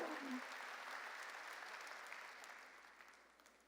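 A Korean church congregation breaks into sustained, dense applause during a worship service, an even roar of many hands that gradually softens toward the end, with a brief voice at the start.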